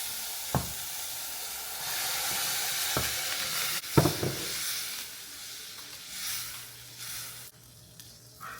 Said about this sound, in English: I'm going to let this simmer down till it reduces by at least half.